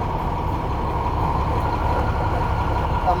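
A Class A truck's engine idles steadily and close while the air brake system builds pressure, a constant low rumble without pauses and with no talking.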